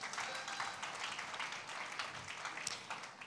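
An audience claps for a university debate team at a youth leadership debate grand final, a faint, steady patter of applause with no voices over it.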